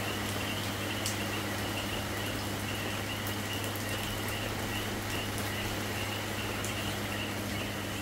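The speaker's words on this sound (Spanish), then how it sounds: "Empezó a relampaguear, a llover fuertecito" Steady rain from a night thunderstorm in Combate, Puerto Rico, hisses continuously at low volume, with a faint background hum and no clear individual drops.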